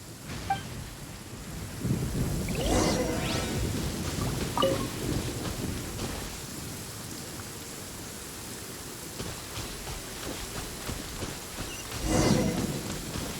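Steady rain falling through a thunderstorm in the video game Genshin Impact, with loud rolls of thunder swelling early on and again near the end over a constant wash of rain and wind.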